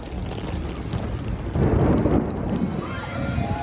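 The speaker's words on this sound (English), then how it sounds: "came out to a thunderstorm, which is the perfect setting for this land" An outdoor thunderstorm at a theme park, heard as steady rain hiss with a deep rumble of thunder swelling midway, fairly loud and continuous.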